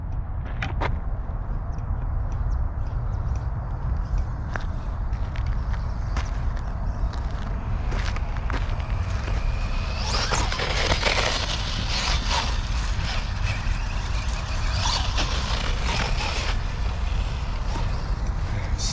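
Losi Promoto MX RC motorcycle riding and sliding on dirt, a buzzing electric motor whine with gritty scrabbling and crunching of the tires, growing louder and more intense midway through.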